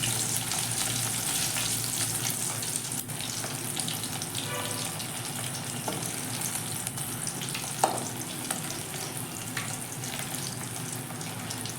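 Anchovies sizzling steadily in hot oil as small fish fry for a crispy fish 65 dish, a dense, continuous crackle close by with faint scrapes of stirring.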